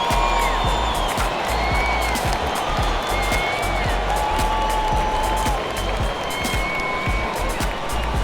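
Crowd applause and cheering in an NBA 2K23 basketball game between Dallas and Minnesota, a continuous roar of clapping with squeaking sneakers and scattered whoops, under an announcer's voice.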